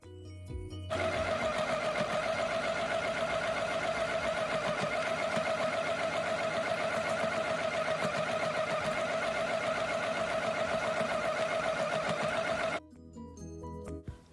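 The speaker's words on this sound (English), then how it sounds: "I'm going to get 2 of my edges sewn with my mini sewing machine" A mini sewing machine stitches the edges of a fabric pillow for a Dollar Tree bunny craft, with a continuous whirring, buzzing motor run of about twelve seconds, close and alone, stopping abruptly.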